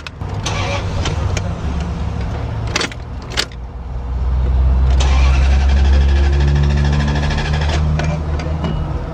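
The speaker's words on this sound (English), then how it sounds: "I'm gonna see how my van starts up." A van in Oregon cranks repeatedly without catching, its starter whirring in long loud bursts that rise toward the end, with a few sharp key or metallic clicks near the start and no speech.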